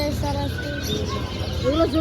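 Pigeons coo softly amid chirping birds, mixed with voices talking nearby and general busy background noise.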